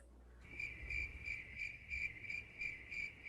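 Crickets chirping as an added sound effect: steady, evenly pulsed high trills repeating throughout, alone over a soft low rumble with no talk.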